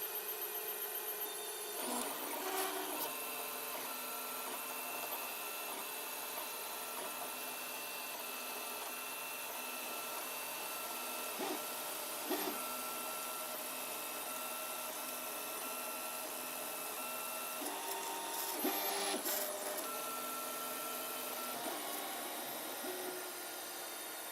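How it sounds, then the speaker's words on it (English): A 3D printer runs an LCD 12864 front cover print at full speed, a steady mechanical whir with stepper tones shifting in pitch, plus brief louder bursts of movement near the start and again around twenty seconds, no voices. "This is actual speed of the printing."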